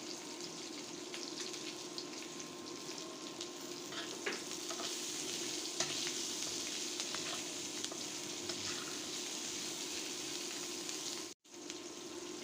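Onion, garlic and green chilli fry in a pan with a steady, dense sizzle that holds close and even throughout, broken only by a brief drop near the end.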